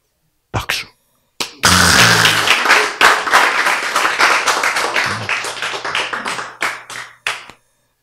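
An audience at a lecture claps in a burst of sharp, rhythmic hand claps that thin into scattered claps, with brief voice sounds mixed in.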